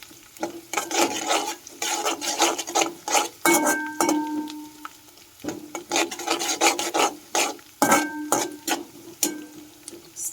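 A small amount of garlic sautéed in a pan over low flame for a chicken dish, dominated by repeated rasping scrapes of a spatula against the pan over a faint underlying sizzle, close and busy with no talking.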